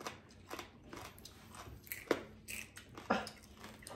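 Close, crisp crunching and chewing noises repeat irregularly as a brittle insect is bitten and chewed, with a few sharper snaps.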